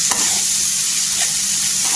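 Fresh coriander leaves dropped into a hot oil tempering for a quick cauliflower curry sizzle steadily and loudly while a utensil stirs through the pan, with no voices.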